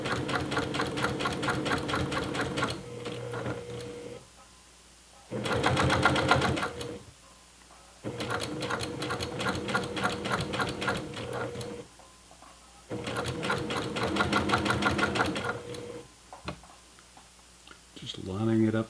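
Sewing machine stitching piping onto throw pillow fabric, running in several steady bursts of rapid needle clatter separated by short pauses, with a voice talking between and over the runs.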